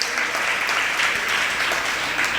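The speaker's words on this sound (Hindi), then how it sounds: "ताली बजा करके इनकी अनुमोदना करो।" An audience at a Jain monk's religious discourse gives a burst of dense, steady clapping that fills the whole moment, loud and close, with no voices over it.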